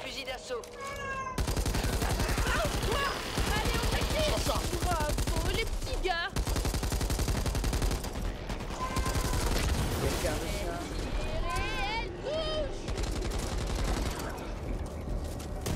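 Sustained automatic gunfire from a machine gun in the co-op zombie shooter Back 4 Blood, set in a blood-soaked gymnasium, crackling densely and continuously amid loud chaotic game effects.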